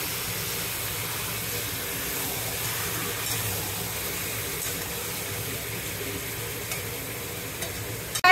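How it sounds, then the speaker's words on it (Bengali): Raw chicken pieces are dropped into fried masala that has released its oil, then stirred. A steady close sizzle and hiss runs throughout with a soft scrape of stirring, and a sharp clatter comes at the very end. "এবার এর মধ্যে আমি মাংসটা এই দেখুন ছেড়ে দিচ্ছি।"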